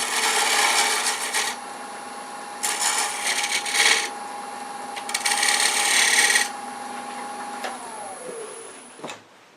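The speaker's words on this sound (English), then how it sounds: "Now using a detail gouge, I'm going to roll a bead." A detail gouge cuts a bead on wood spinning on a lathe for a medallion ornament, making rasping, scraping bursts over the steady hum of the machine. Near the end the motor winds down to a stop.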